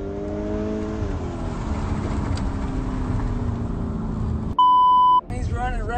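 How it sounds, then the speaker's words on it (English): A car races past on the road in a dashcam road-rage incident. A steady engine drone falls in pitch as it goes by, and a loud electronic beep cuts in briefly near the end. "As he drove, another car raced past him."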